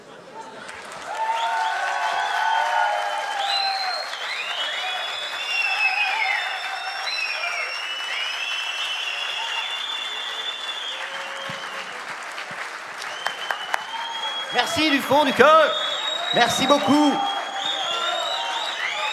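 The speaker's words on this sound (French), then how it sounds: "Applaudissez très très fort" An audience at an outdoor music festival claps and cheers steadily for a long stretch, with a voice briefly speaking over the applause near the end.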